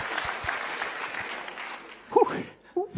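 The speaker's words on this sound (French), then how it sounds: "On l'applaudit bien fort." An audience at a conference breaks into a short round of clapping, a steady patter of many hands, before a voice cuts in near the end.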